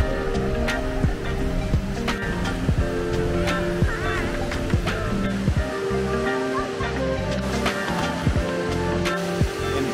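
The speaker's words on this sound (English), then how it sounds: "Look at this beautiful indoor waterfall." An indoor waterfall roars steadily inside the Jewel at Singapore's airport, a broad continuous rush with voices and crowd murmur mixed in.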